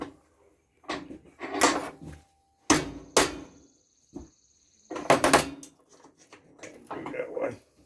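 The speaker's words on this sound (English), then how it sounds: "let me just break this plastic off" Plastic casing on an old hair dryer is snapped and broken off while held in a vise, giving sharp cracks and knocks in separate bursts with short quiet gaps, and a voice speaking intermittently.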